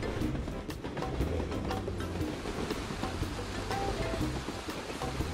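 Lots of water flows and rushes steadily in a Robot Trains cartoon scene, a continuous wash of splashing and surging at moderate level with no voices.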